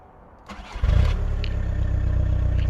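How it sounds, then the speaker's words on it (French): Volkswagen Golf 4 TDI 100 diesel engine starting: a short cranking burst, then the engine catches and settles into a steady, close idle rumble. "Pas besoin d'être très bruyant au démarrage."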